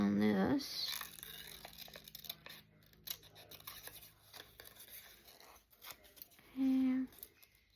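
Scissors trim around an old paper letter for a junk journal, making soft close snipping and paper rustling, with a brief voice heard at the start and a tonal hum near the end.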